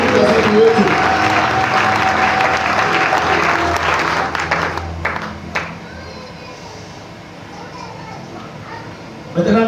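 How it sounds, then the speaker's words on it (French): Church congregation applauding loudly, sustained dense clapping with some voices mixed in, which fades to a softer patter midway before a final surge. "Acclame très fort pour la gloire."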